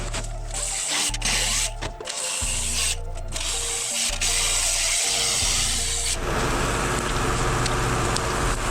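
A cutting tool slicing through a weld on the passenger-side bed fender of a 1949 Jeep Willys pickup, a close, loud grinding rasp in bursts with brief pauses, then one steady continuous cut.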